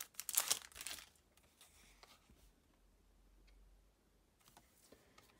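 Crinkling and tearing of FC Bayern München 2018 booster packs being unpacked, a sharp close burst of foil rustle at the start followed by quieter scattered handling noises.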